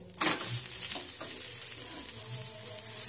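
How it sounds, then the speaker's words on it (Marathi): Green moong dosa sizzling on a hot pan just after being flipped, a soft continuous frying crackle with a few scraping stir sounds near the start. "या बाजूने देखील थोडा शेकून घेऊ आपण व्यवस्थित."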